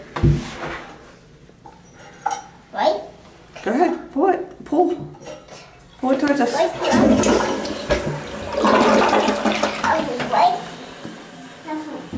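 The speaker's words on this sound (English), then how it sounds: "It's got a weird flush." A hotel toilet flushes with a sustained rush and swirl of water that follows several short knocks and clatters, while people talk nearby.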